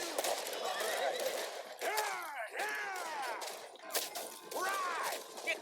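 Several horses whinny and neigh loudly in turn in Red Dead Redemption 2, high wavering cries overlapping with rustling noise and faint voices in the background.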